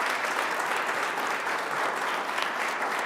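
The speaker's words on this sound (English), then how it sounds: "but let's give them a round of applause." A city council meeting audience gives a round of applause, continuous crowded clapping at a steady, fairly loud level for about three seconds with faint chatter mixed beneath.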